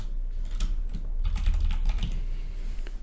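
Quick close-up clatter of keystrokes on a computer keyboard, a short burst of typing over a low background hum.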